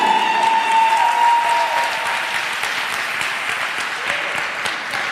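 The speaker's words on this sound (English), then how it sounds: "Clap for me then if I'm helping you." Church congregation applauding during a sermon, a loud, sustained burst of many hands clapping that swells and then gradually thins out.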